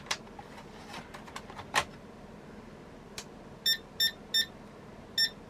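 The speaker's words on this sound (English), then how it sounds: "it should beep at us like they did now" ACT 386sx portable computer with a memory fault sounding a short series of four sharp electronic beeps, preceded by faint clicks and taps against low background hum.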